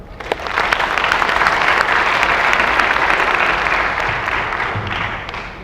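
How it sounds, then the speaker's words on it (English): Dense, steady applause from a large audience at an agricultural research conference on Africa, a loud unbroken wash of clapping that holds for about five seconds and eases slightly near the end. "I was clapping very hard"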